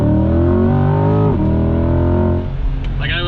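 A 2021 Chevrolet Corvette Z51 V8 engine revs up and then falls away, a loud, deep, rising-and-dropping growl close by, ending with a brief higher burst.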